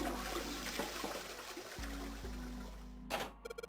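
A toilet in the puzzle game Zero Escape: 999 flushes after a string is pulled, a steady rushing gush of water that runs for a few seconds, then cuts off into a short burst and a few quick clicks.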